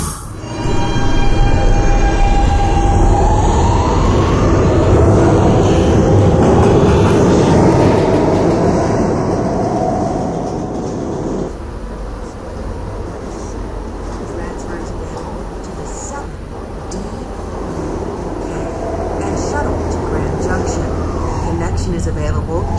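A subway train running along the line, a loud continuous rumble of wheels on track with a rising whine early on, then a steadier roll that eases and builds again, with spoken announcements over it.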